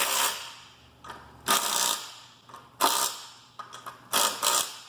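A wrench torques down bolts in a star pattern in short mechanical bursts: a series of clicking, ratcheting strokes separated by brief pauses, close and fairly loud, with no talking.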